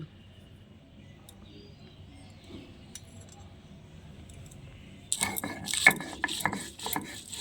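Green chilies and coriander leaves are ground on a traditional stone slab with a grinding stone, giving a quiet stretch that turns into loud, close, rhythmic rasping and crunching scrapes of stone on stone.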